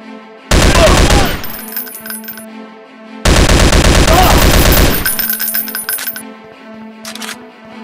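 Two long bursts of rapid automatic gunfire from an Android commando shooting game ring out loud and dense, each lasting over a second, followed by metallic ringing tails and a brief clink near the end.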